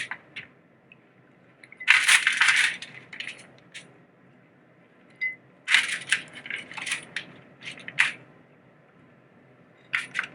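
Soaked hickory and oak wood chips tumble into a foil-lined tray in a few short bursts of clattering and crinkling, close up and without talk.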